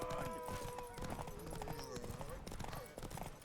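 Horse hooves clip-clop at a steady gallop in The Witcher 3, rhythmic and moderately close, mixed with game music and voices talking over the hoofbeats.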